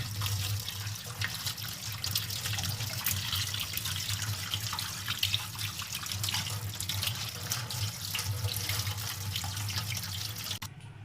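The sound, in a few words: washing bitter gourds under running tap water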